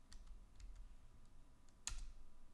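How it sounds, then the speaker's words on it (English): Keys on a computer keyboard are pressed during a Windows 11 safe-mode boot, giving a few quiet, sparse clicks with one sharper press near the end, close and faint, with no talking. "To choose it, I press F4 on my keyboard."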